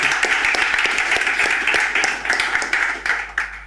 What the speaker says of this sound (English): let's thank Thierry and Robert with applause.